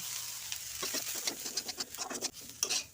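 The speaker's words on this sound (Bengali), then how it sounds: "আমার সবজিটা ভাজা ভাজা হয়ে গিয়েছে ভেজে রাখা সুজিগুলো দিয়ে দেব" Roasted semolina being stirred into vegetables frying in a pan for upma, a steady soft sizzle with scraping spoon strokes building toward the end, close and fairly quiet.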